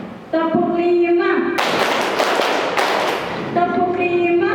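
A group of students at a Muhammadiyah school organisation event in Maumere claps a rhythmic pattern together, bursts of loud clapping set between a leader's spoken cues and chanted counts.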